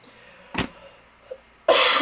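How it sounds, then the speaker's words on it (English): A single short cough, then a brief quieter throat sound, followed by a loud burst of noise at the end. "And excuse me, coughing."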